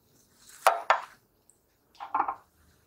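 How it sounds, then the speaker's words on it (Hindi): Scissors snip through old cloth while a doormat is being made at home: a couple of sharp close cuts, a pause, then another short cutting burst, quiet and alone. "तो उसके लिए हम इसको पहले कट कर लेते हैं"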